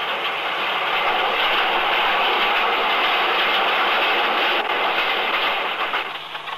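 A Festiniog Railway narrow gauge train rumbles steadily along its single track, a continuous broadband roar with clattering undertones, loud and sustained throughout before easing slightly at the end.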